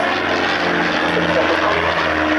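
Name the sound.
Extra 300 aerobatic aircraft flying at airshow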